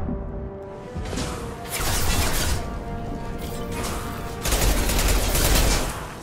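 Hand cannon gunfire in the video game Mass Effect 2 comes as two loud, close bursts of heavy shots with crashing impacts, separated by a brief quieter stretch of mechanical combat noise.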